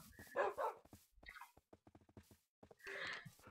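Dogs in a hardcore survival video game give several short barks and yelps, fairly close and separated by gaps, with one longer louder burst at the start and another near the end.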